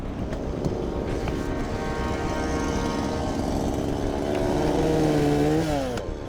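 A chainsaw runs continuously while cutting away trees, its engine loud and close with a rough, steady buzz that bogs and rises in pitch under load near the end.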